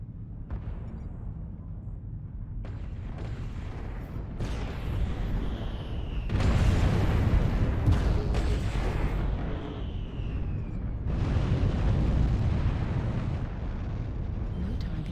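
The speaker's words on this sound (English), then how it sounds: "Artillery strike online." Artillery strikes land in a MechWarrior Online battle, a string of heavy booming explosions with rumbling tails that swell and overlap, rising to loud roaring bursts in the middle and again near the end.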